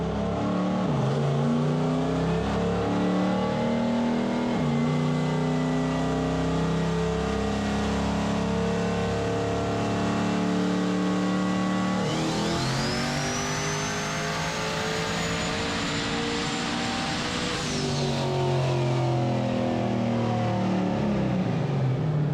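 A turbocharged Chevrolet LT-engine truck in a shop revs hard and sustains a loud, roaring drone, climbing in pitch with a rising turbo whine midway before dropping back, steady and close with no talk.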